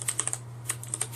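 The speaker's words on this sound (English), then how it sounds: "It sounds like a fucking futuristic keyboard." Rapid, uneven keystrokes on a clicky CM Storm Quickfire Rapid mechanical keyboard, crisp close-up clacks in two short bursts separated by a pause, over a steady low electrical hum.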